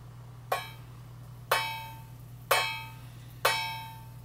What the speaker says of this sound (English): I'm going to hit the Chladni plate with this little hammer